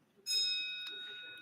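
A voting bell rings in a state House chamber during a floor session, one clear ringing tone that starts sharply and hangs on, slowly fading.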